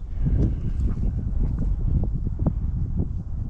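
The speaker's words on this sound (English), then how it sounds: "It's getting windy." Wind blows across the mic outdoors during a winter rabbit hunt with beagles in Delaware, a steady low buffeting roar with occasional rustles and soft thumps.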